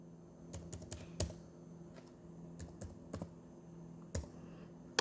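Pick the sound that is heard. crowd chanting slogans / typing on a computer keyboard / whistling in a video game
typing on a computer keyboard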